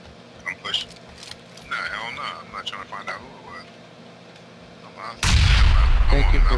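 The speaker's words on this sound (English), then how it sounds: "That wasn't me on the grenade." In PlayerUnknown's Battlegrounds, a grenade goes off as a sudden loud blast with a sustained roar after several seconds of quiet voices and soft background game noise.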